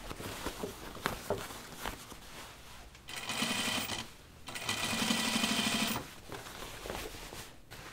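A sewing machine stitches the thick denim seam of Ginger jeans in two sustained bursts of rapid mechanical whirring, separated by a pause, with softer handling and tapping noises around them at moderate closeness.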